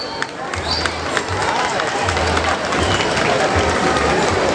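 Audience applause for a Latin American folk ballet group at a carnival in Loreto, a dense steady crowd clapping throughout with a low rhythmic drum or music thump pulsing underneath.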